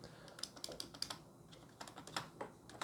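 Quick, uneven typing on a Philips Momentum SPT8264 wired gaming keyboard with crisp clacks of individual keys, close and fairly quiet, with no voices.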